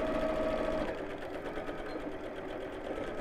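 A sewing machine runs steadily up close, reverse stitching along a seam on a messenger bag, a continuous even whir with a slight change in tone partway through and no talking.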